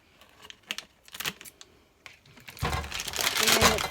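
Scissors snip and crinkle open a plastic bag holding two pounds of shea butter: a few scattered clicks and rustles, then louder crinkling plastic at close range, with no speech.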